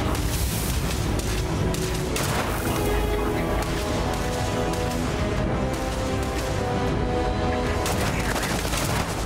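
Pistol gunfire in the space game Starfield, a loud, steady barrage of rapid shots and booming impacts running throughout, with no voices.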